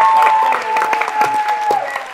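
Loud, steady studio audience applause welcoming actress Nausheen Shah onto a talk show set, continuous dense clapping close by with a sustained tone running underneath.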